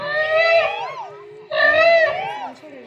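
A voice gives two drawn-out, wavering wailing calls in imitation of a peacock, separated by a short pause.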